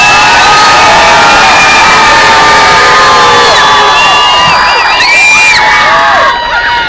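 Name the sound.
protest march crowd screaming and cheering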